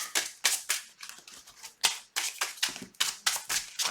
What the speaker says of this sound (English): we are shuffling our deck.